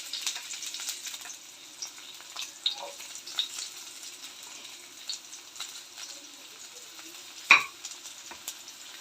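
Garlic sizzling and frying in hot oil in a pan for a Kerala sardine fish curry with bird's eye chillies, a steady soft crackle with occasional stirring clinks and one sharp utensil knock near the end.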